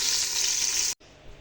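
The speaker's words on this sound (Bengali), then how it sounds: "আলুগুলো এবার আমি লাল লাল করে ভেজে নেবো" Potatoes fry in hot oil, giving a loud, steady, close sizzle that cuts out suddenly partway through, followed by quieter background noise.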